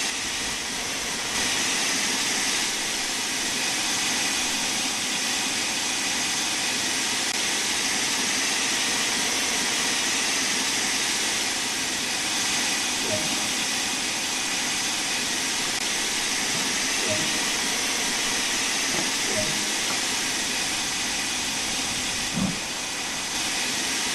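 Steam locomotive in the video game Train Sim World 2, a constant loud hiss of steam with a low engine rumble and occasional faint clanks, steady throughout with no talk.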